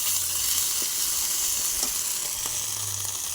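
Ginger, green chilli and cumin paste hits very hot oil and sizzles loudly and continuously, a close, dense frying hiss with a few faint clicks and stirring sounds.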